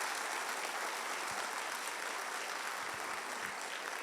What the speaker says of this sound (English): So I want you all to give yourself a round of applause.